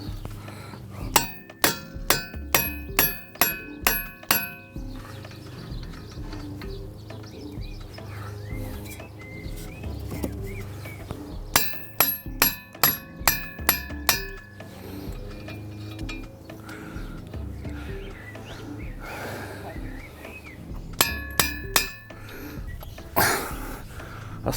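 Metal on metal rings out as a hammer strikes a nut threaded onto a Vauxhall Vectra drive shaft, three bursts of rapid, sharp clanging blows separated by pauses.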